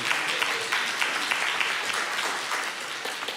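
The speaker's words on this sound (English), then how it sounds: "Give him a round of applause, please." An audience at a Sunday church service applauds a man credited with getting a new sound system working, producing steady, dense clapping that holds evenly throughout.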